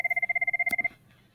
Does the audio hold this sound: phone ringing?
yes